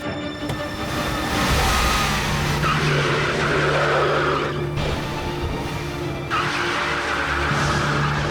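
A car's tyres spin and skid on a slippery rural road, the engine revving hard in long rising surges with a grinding whine, loud and close, two strong pushes of throttle.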